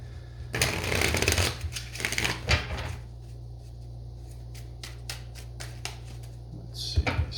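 A deck of tarot cards is shuffled by hand during a reading, with a dense riffling burst for the first few seconds followed by lighter, scattered card taps and flicks, close and fairly quiet.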